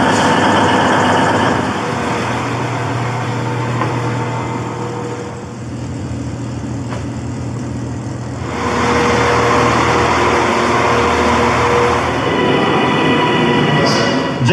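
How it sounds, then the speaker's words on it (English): A TransPennine Express train bound for Glasgow Central rumbles loudly from inside the carriage, a constant rolling roar that dips for a few seconds in the middle and then swells again. "This is a Transpennine Express service to Glasgow Central"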